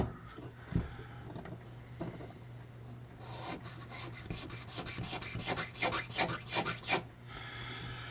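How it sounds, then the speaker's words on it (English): A hand scraper works a mold line off a tobacco pipe stem, giving quiet, close rasping strokes that quicken into a rhythmic run of short scrapes toward the end. "What we can do about getting that mold line out of there with a scraper"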